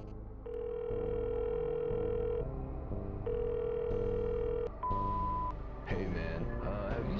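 A telephone answering machine plays its steady, sustained beep tones after a voicemail greeting, several long pure tones in succession with a short higher beep, loud and close over a background hum.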